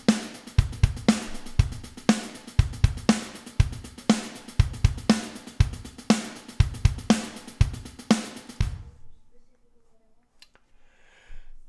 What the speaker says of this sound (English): that is the very definition of a very static, lifeless drum machine sound